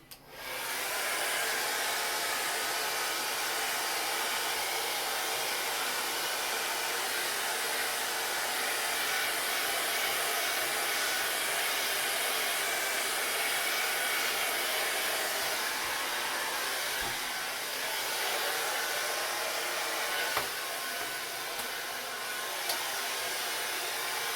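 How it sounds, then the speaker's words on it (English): A hair dryer blows steadily and loudly at close range for the whole stretch, its even rushing whir broken only by a few faint clicks. "Hair dryer again."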